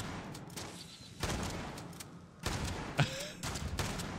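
Shotgun blasts in the video game Fallout 76, firing in several separate heavy bursts at moderate loudness, spaced about a second apart, with brief pauses between them.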